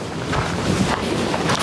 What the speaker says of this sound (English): I just can't keep my gas stove lit with it being so windy